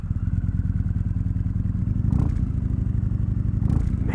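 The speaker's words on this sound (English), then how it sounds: "Let's go ride this bike." A Yamaha MT-01 1700cc V-twin motorcycle ridden along, its deep loping engine rumble throbbing continuously and close, with a couple of brief clattering bumps mid-ride.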